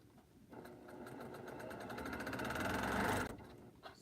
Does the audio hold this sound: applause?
no